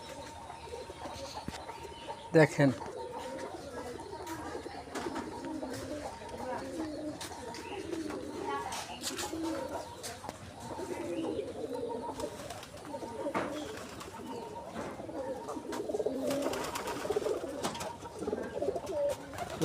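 Pigeons in a home farm loft coo softly and repeatedly close by, with occasional wing rustles, while a person talks quietly over them.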